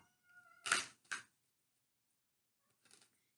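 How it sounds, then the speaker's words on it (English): A pet cat named Katie meows, two short close meows in quick succession followed by a fainter third after a pause, in an otherwise quiet room. "And introducing my cat, Katie Cat."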